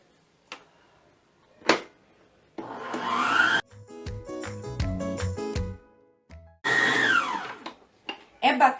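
An electric mixer whirs in two loud bursts while beating a Ninho milk powder filling, with clicks, scraping and rattling taps between and around the bursts and a voice speaking in places.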